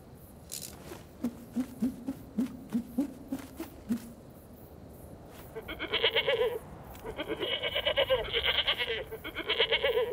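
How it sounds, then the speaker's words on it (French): Goats bleat repeatedly and loudly in wavering calls in Madagascar, following a series of short rhythmic tapping or pattering sounds, with several animals overlapping near the end. "Les chèvres!"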